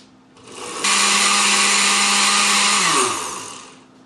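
A kitchen blender whirs loudly and steadily for about two seconds as it purées ingredients for Mexican posole, then its motor winds down and its pitch drops as it stops.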